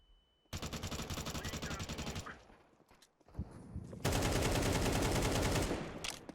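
AK rifle fire in Counter-Strike 2, two long bursts of rapid automatic shots with a brief pause and scattered single shots between, loud and close.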